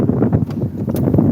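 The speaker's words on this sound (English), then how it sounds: "It's windy out there now." Gusty wind buffets a microphone up close, a low rumbling roar with uneven bursts throughout.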